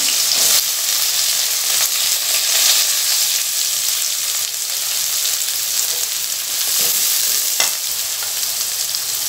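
Finely chopped big onion fries in a pan for parruppu urundai kuzhambu, a loud continuous hissing sizzle broken by a few scrapes of stirring, close with no talking.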